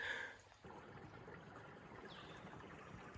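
A faint, steady trickle of an unseen underground stream on the Appalachian Trail murmurs in the background, soft and continuous, with a brief higher sound near the start.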